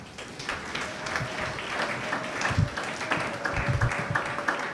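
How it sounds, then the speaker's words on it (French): A church congregation at a sermon gathering breaks into sustained applause, a dense patter of many hands at moderate distance with a faint held tone and low thumps underneath. "Acclamons le Seigneur."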